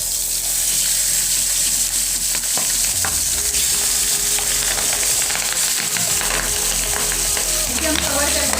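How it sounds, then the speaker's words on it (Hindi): Pabda fish sizzles loudly in hot oil in a pan, a dense, steady crackle and hiss close up with occasional scraping stirs throughout. "तो हमारा तेल गर्म हो चुका है, हम इसमें फिश डाल देंगे।"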